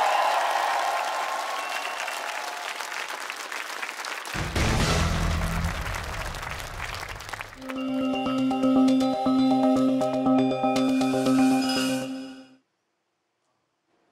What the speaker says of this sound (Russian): Аплодисменты Мирославу.